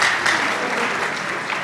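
An audience applauds, a dense, steady patter of clapping close by that holds throughout without pause, with faint cheering mixed in.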